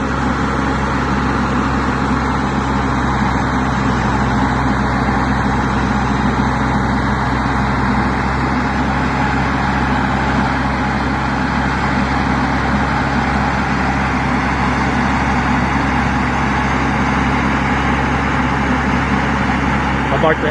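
An old Mack log truck engine runs steadily, a loud, low, constant diesel rumble that holds at an even level throughout, with no clear variation in pace.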